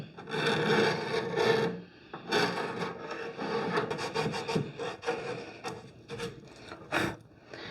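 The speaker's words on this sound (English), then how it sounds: "So we're going to scrape it." A scraper drags across tough old paint on a vintage Art Deco wooden chest of drawers, repeated rasping strokes in uneven bursts with short pauses between them, close and fairly loud.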